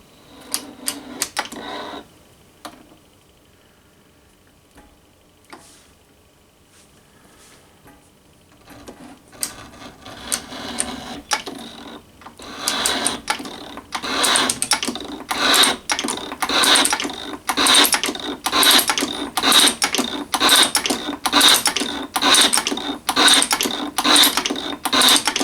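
Metal shaper machine taking a fine cut, starting with scattered clanks, then settling into a loud, steady rhythmic clatter of evenly spaced strokes with a mechanical hum, close up and alone.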